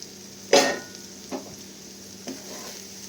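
Semolina and vegetables are stirred in a frying pan, with one firm scrape followed by a few lighter utensil strokes over a soft, low background sizzle.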